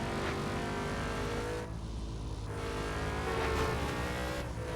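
Racing game car engine droning steadily while overtaking traffic, a continuous loud motor hum with slight revving swells and a brief dip partway through, no talking.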